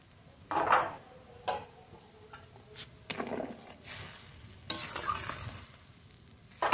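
Fried singhi fish going into a boiling fish curry, heard as scattered close clinks and scrapes in bursts over a faint bubbling simmer, with no voices.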